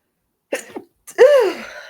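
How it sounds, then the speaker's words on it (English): A short sniffling build-up, then a loud, close sneeze that trails off with a voiced tail. "I got to sneeze, y'all. I feel it."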